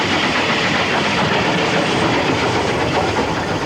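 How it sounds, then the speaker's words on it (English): Steam locomotive hauling an express at speed, with a steady, loud rumble of the engine's beat and a continuous clickety-clack of wheels over rail joints, heard close and without talk. "I'm listening to the beat of the engine. I'm listening to the rail joints for my speed."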